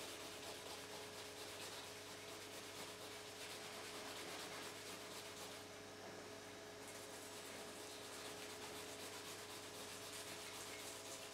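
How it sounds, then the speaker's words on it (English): Steady, continuous rubbing of a clean cloth loaded with rubbing compound along the edge of an acrylic (Perspex) shelf piece, a dense even friction sound with no pauses or speech. "So I'm just going to get some rubbing compound on a clean cloth, and then we're just going to start to polish that edge."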